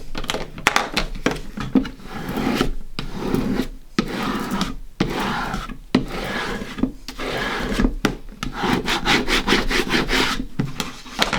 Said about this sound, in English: Then I'm gonna burnish lightly again with my squeegee.